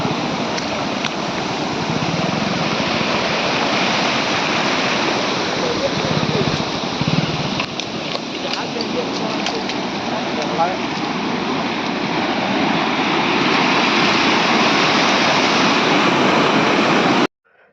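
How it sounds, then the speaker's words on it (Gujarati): Floodwater rushes fast through a village in a loud, continuous roar, churning without pause from start to finish. "પાણી જોવો તમે ખાલી કેટલા ફૂફાડા મારે આવે છે. અહીંથી ને એટલું ઝડપીથી જાય છે પાણી."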